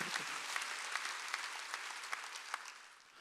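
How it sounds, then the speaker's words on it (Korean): A church congregation claps during a Wednesday sermon, a fairly quiet, somewhat distant patter of applause with a few sharper claps standing out, fading slightly at the end. "여러분이요 기필코 정신인 걸 믿으면 박수야."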